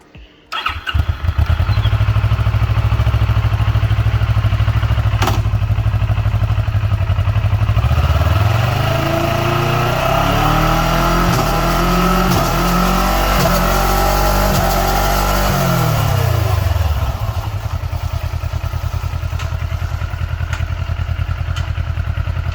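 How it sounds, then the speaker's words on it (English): Motorcycle fitted with a Powertronics quick shifter starting up and idling, then revving and rising through pitch-stepped upshifts with quick RPM drops between gears before settling back, loud and close with no talk. "we were able to hear that quick change of RPM, the drop of RPM, and the shifts as well"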